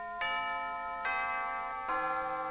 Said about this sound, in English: That famous bell that sounds almost everywhere in the world.